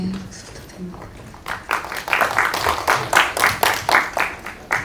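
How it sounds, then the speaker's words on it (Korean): Applause at a press screening and press conference for a Korean film, building from quiet after a brief voice into a dense, fairly loud patter of many hands clapping that lasts to the end. "박수 부탁드립니다."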